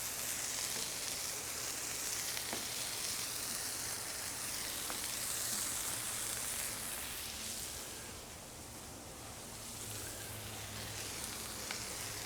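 Bread sizzles in butter on a Cuisinart 360XL griddle, a steady, even hiss of frying that holds the whole time, dips a little briefly, then rises again, with no voices.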